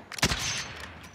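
Gunfire in the Warzone video game, a quick rattle of several close shots in a tight burst, followed by a brief echoing tail, short and loud with no talking.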